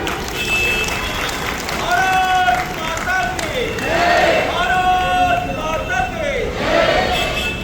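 A large crowd at an Operation Sindoor procession in Rajnandgaon, Chhattisgarh, claps and cheers loudly and steadily, with voices and chanting rising through the applause.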